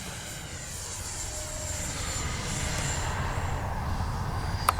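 A Freewing F-16 70mm electric ducted-fan RC jet flies overhead, its high turbine-like whine holding steady, then sweeping down in pitch as it passes and swelling slightly louder toward the end, with no voices.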